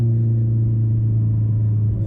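A big-turbo Subaru STI with a loud aftermarket exhaust, a Nameless mid-pipe and CNT 4-inch mufflers, idles with a deep, steady, close rumble and no talk over it.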